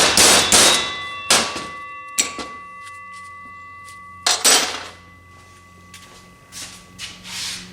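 Screwdriver prying and breaking a part out of a Ford 4R70 automatic transmission, giving several sharp metallic clangs and scrapes in bursts, loud and close, with quieter gaps and a faint ringing tone between.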